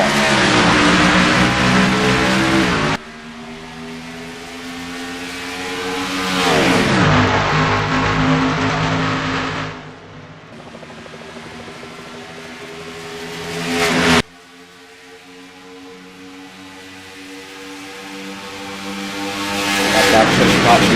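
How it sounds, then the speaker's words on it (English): Several sim racing video game race car engines at Homestead roar and rev one after another into turn one, pitch climbing and then dropping as each passes, loud and continuous with abrupt cuts between them. "Let's take a listen to these cars roar into turn number 1."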